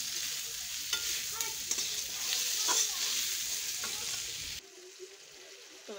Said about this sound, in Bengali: আদা রসুন পেঁয়াজকে পুরো দিয়ে কষাচ্ছি